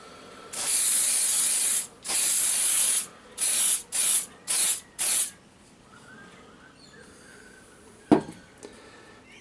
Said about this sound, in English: I'm just using silicone spray